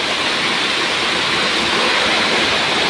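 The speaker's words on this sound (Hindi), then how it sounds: "इतने दिनों बाद बारिश हो रही" Heavy rain pours down in a steady, dense hiss, loud and unbroken from start to finish, with no voices.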